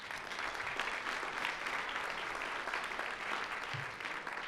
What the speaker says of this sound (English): yeah, please clap.